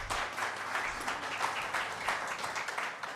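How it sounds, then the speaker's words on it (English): Steady applause from an audience at a medical symposium in a hall at Bhurban, a dense continuous patter of many hands clapping at an even level for about three seconds. "So a round of applause for Shehzad actually."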